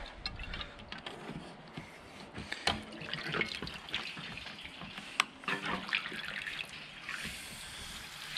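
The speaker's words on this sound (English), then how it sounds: "We're going to throw straight into the fuel cap and it's just going to come down and pump straight through the fuel separator into the jerry" Fuel drains from a boat's tank through a fuel separator into a jerry can, producing a continuous close trickle and splash of liquid with small irregular drips and gurgles.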